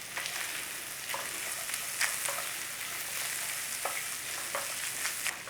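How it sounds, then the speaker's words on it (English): Onions frying in bacon fat, a constant crackling sizzle with occasional scrapes and taps of stirring, close and moderately loud, with no one talking. "we're going in there with the onions. Everything's going to cook together."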